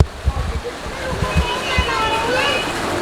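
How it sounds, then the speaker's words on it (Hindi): A natural river waterfall pours into a swimming pool in the hills of Dharamshala, a steady close splashing rush, with a few thumps and voices early on before the flow carries on alone. "नेचुरल ऊपर से नदी का झरना आ रहा है, नदी का पानी आ रहा है"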